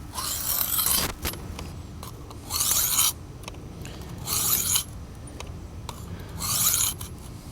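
Knife blade drawn across the abrasive of a Worksharp guided sharpening system, four separate bright rasping strokes at a steady pace, each about half a second long, close and fairly loud over a quiet background.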